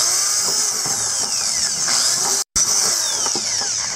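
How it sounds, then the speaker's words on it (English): Power drill boring 1/8 inch holes into a plastic bucket for a worm composting tower, a loud steady high whine that holds, cuts out briefly for a moment, then resumes at full strength. "So I'm going to just start drilling."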